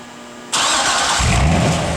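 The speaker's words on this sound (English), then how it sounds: "I love the exhaust. That's the dual mode exhaust." A 2008 Chevrolet Corvette LT4 convertible with dual mode exhaust cranks and fires up abruptly, its loud, raspy exhaust bursting to life and settling into a deep, throaty idle close by.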